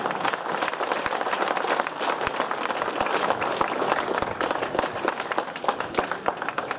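A crowd at a women's cycling time-trial prize ceremony applauds Swedish rider Emma Johansson, dense continuous clapping that stays even and loud from start to finish.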